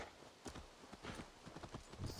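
A small horse's hooves clip-clop at a walking pace in Assassin's Creed Valhalla, a soft, quiet, uneven string of thuds with no talk over them.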